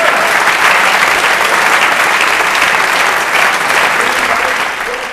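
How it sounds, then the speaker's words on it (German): Full, sustained applause from a large crowd for a speaker named Charry, dense and steady throughout, tapering slightly at the end. "Jetzt aber nicht den halben Applaus, sondern die volle Packung für unseren Charry"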